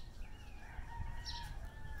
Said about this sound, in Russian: Куры,